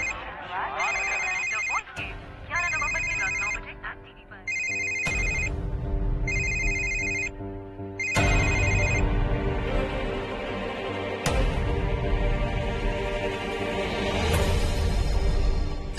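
A telephone rings with a repeating electronic ringtone in short bursts, fairly close and loud, over background music in a Hindi TV drama scene.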